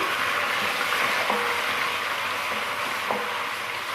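Ginger-garlic paste and onions frying in a pan give a steady, close sizzle with a few faint scraping clinks of a spoon, no voices over it.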